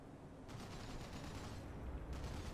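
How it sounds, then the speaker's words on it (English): Sustained heavy machine gun fire from a .50 cal HMG in a war video game, a dense continuous rattle of distant-sounding bursts over low rumbling battle noise, with no talk. "hit by the 50 cal, the HMG that's down there"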